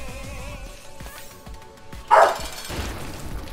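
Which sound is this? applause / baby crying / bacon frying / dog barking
dog barking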